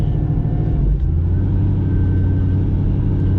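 A Chevrolet Camaro exhaust in tour mode while driving around a neighborhood, a steady, fairly tame low rumble with a slight shift in pitch near the one-second mark, continuous and alone with no voices.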